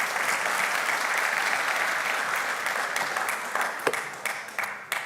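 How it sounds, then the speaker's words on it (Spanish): An audience at a religious talk applauds, a dense, sustained wash of many hands clapping at an even level before thinning out toward the end. "dale un aplauso a Jesús aquí"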